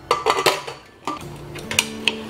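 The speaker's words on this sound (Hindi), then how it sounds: "इसके बाद हम कुकर की लेड लगा देंगे" A metal pressure cooker lid is fitted onto the pot in a kitchen, giving a quick series of close metallic clinks and scrapes, with a brief ringing tone near the end.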